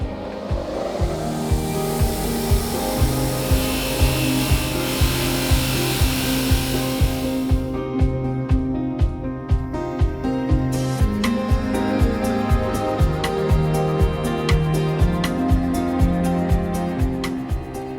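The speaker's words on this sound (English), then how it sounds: "the bolt heads are lightly polished using a soft wire wheel on the bench grinder" Bolt heads for a 1992 RM125 motorcycle are pressed against a soft wire wheel on a bench grinder, a loud steady motor hum with rough, pulsing brushing scrapes that change texture partway through.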